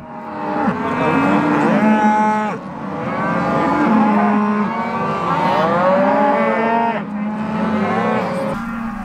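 Calves and cattle on a Montana ranch moo loudly and close by, several long overlapping bellows following one another with brief breaks between calls.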